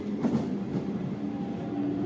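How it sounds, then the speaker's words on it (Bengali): A train pulling into a station at Gobardanga at 2:30 on a cold night; a steady, near rumble of rolling wagons with faint clatter and no voices. "তো এই দেখো আমাদের ট্রেনটা চলে এসছে।"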